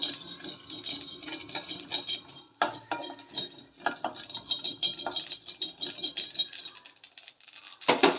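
Mustard seeds dry-roasting in a pan with no oil for a gooseberry pickle spice mix, crackling and popping in rapid, irregular clusters of small sharp snaps, fairly close, with no talking.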